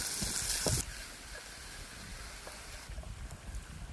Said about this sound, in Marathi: तेल गरम झालंय, बारीक चिरलेला कांदा, कांदा आपल्याला चांगला लालसर रंगापर्यंत परतून घ्यायचा आहे